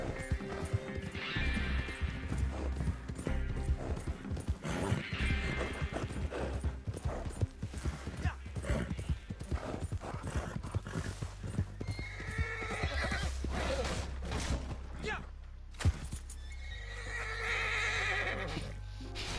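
A horse in a video game gallops with rapid clip-clop hoofbeats and gives loud whinnies, close and prominent, with faint game sounds underneath.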